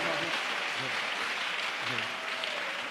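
A church congregation at a prayer camp service applauds steadily, dense clapping filling the space throughout, with faint voices mixed into the crowd.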